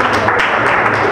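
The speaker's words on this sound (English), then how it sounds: "il faut applaudir." Audience applause at a convocation dinner ceremony, a dense, bright wash of many hands clapping together, loud and continuous through the brief moment.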